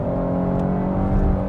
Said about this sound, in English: and kind of sounds good, you know, as engine revs build